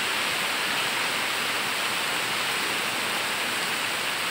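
Downpour of heavy rain, heard as a constant wash of broadband hiss at an even level from start to finish, alone without speech.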